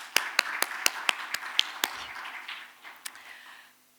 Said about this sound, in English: Can we have a round of applause for Sushita?